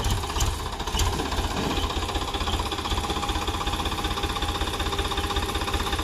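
A loud diesel tractor engine chugs close by with a rapid, even knocking rhythm that holds steady throughout.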